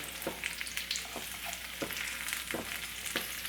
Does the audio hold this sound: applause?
no